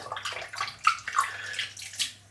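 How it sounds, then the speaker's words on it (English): Water poured onto shaving soap in a small container, giving a few short splashing and gurgling bursts up close, quiet, with a low background hum. "I'm just going to pour the water in."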